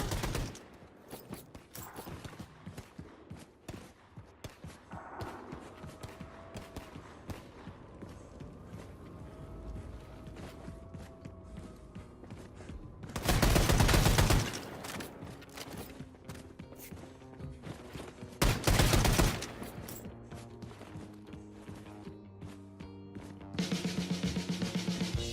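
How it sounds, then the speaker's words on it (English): A nuclear cannon firing in a Wolfenstein game, with two loud, roaring blasts a few seconds apart over a low mechanical hum, then a third sustained roar near the end. "Blazkowicz, hop on the nuclear cannon and fire it to maximum distance."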